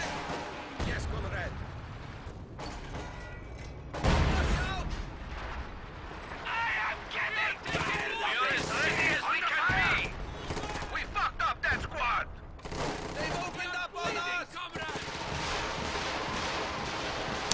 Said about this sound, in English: the walking Stuka actually wipes that howitzer in one barrage